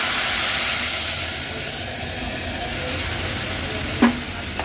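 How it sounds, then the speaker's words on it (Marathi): A tadka of spices and tomato sizzles loudly for cooked toor dal, a steady close hiss with the faint scrape of stirring and one sharp clank of a utensil near the end. "आता ही शिजवलेली तुरीची डाळ आहे ना, ह्याला आपण तडका देऊया।"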